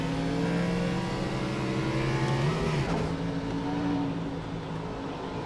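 A 900-horsepower NASCAR race car on the Daytona road course, its engine droning loud and steady with layered harmonics, dipping briefly as the pitch shifts before holding a sustained roar.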